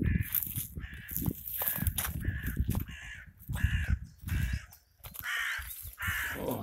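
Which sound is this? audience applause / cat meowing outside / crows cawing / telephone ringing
crows cawing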